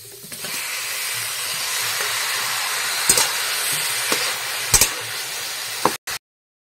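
Washed tomatoes fry in a hot pan with a steady, close sizzling hiss, broken by a few sharp clicks and stirring knocks before it cuts off.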